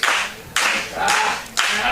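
A wrestling crowd at an Xtreme World Wrestling pay-per-view claps and cheers for James Johnson in three loud, broad bursts of applause that surge and fade, with faint voices mixed in.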